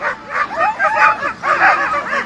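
Sled dogs at the start of an Alaska race, from a Lincoln, Montana team, yip and bark excitedly in a continuous overlapping chorus, close and loud, with whimpering yelps mixed in.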